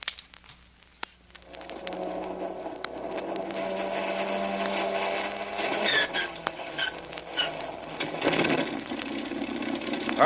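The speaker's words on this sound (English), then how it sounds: "Here we go with engine number 1." Engine number 1 of an aircraft starting up after the ignition switch is turned on, a steady mechanical drone building up and continuing with a broad rumbling roar, and a brief click at the start.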